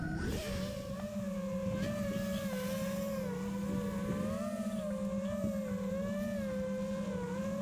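Freestyle FPV drone fitted with Mepsking motors spinning up after arming, a loud steady whine with shifting pitch that hums and wavers close by throughout, no voices over it.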